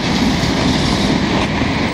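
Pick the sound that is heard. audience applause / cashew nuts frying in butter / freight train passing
freight train passing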